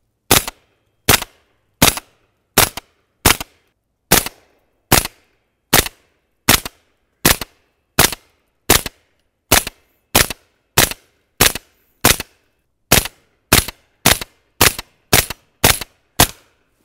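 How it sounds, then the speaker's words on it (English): Suppressed pistol fires Fiocchi 158 grain subsonic ammunition in the snow: about two dozen loud, sharp reports in a steady, evenly spaced rhythm, each one dying away quickly, with no speech. "Fiocchi's 158 grain load was designed to be subsonic from some machine guns, so it's no surprise it sounds great out of the Guard."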